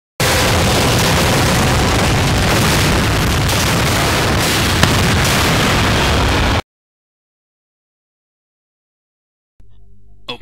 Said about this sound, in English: I'll help you by shooting these possibly explosive barrels.